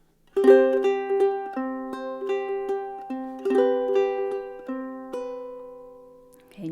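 Ukulele playing a chord melody intro of Auld Lang Syne, plucked chords in a steady rhythm with ringing notes, close and clear with no voice.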